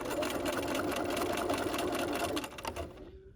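A sewing machine stitches a dog leash forward then in reverse, a continuous near, rapid mechanical chatter that slows and cuts off near the end.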